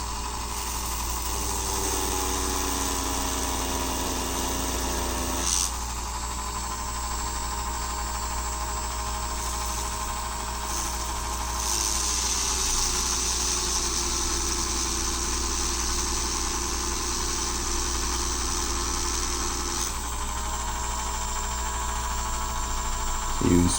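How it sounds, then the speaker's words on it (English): A Dremel rotary tool running at its lowest speed grinds on a police car restoration, a steady whining drone that holds loud through the whole stretch, its pitch dipping and rising as the wheel bites and eases. "We have the Dremel at the lowest speed available, and this is what you do."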